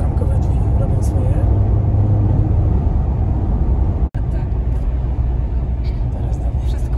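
Steady, loud cabin roar of wind and road noise around the frameless doors of a Maserati Grecale GT on the move, with one brief dropout partway through.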